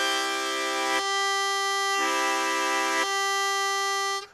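A blues harmonica played with tongue blocking, the tongue sliding toward the low channels, gives a sustained reedy, buzzing chord that shifts between notes about once a second, then stops. No one speaks.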